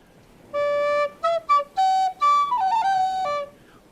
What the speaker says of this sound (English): It's a recorder.